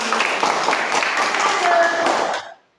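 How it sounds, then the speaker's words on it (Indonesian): A crowd of people clapping together in a steady burst of applause, lasting a couple of seconds before cutting off abruptly. "Kasih tepuk tangan untuk itu."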